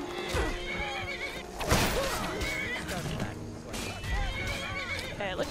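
Horse in Skyrim whinnying loudly, with clip-clop hooves and thumping combat impacts mixed in; a player talks over parts of it.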